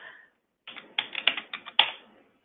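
A short burst of typing on a computer keyboard, several crisp keystrokes in quick succession with one sharper tap near the end, alone and close.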